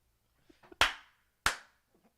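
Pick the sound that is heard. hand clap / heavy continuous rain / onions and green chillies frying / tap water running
hand clap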